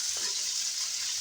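Food frying in a pan while being stirred: a steady hiss of sizzling with a faint scrape of the stirring utensil near the start, close and without talk.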